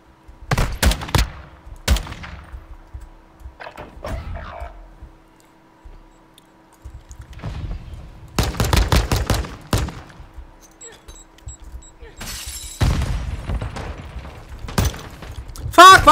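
Sniping in Call of Duty: Modern Warfare II multiplayer, with loud isolated gunshot bursts separated by quiet gaps and occasional mechanical clicks, someone talking in between.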